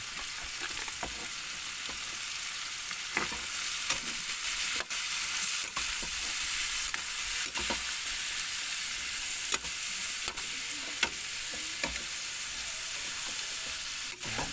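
Pork and string beans (sitaw) sizzle steadily in a pan for a sinigang-style adobo, with a constant frying hiss and the scattered clicks and scrapes of a utensil stirring through them. No one speaks.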